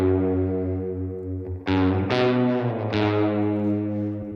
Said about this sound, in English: There's this other guitar which carries a lot of weight in the bridge.